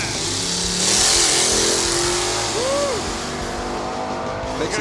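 A Nissan R32 launches down a drag strip with a loud, sustained engine roar and rising revs, a brief tire squeal partway through, heard from trackside with faint voices underneath.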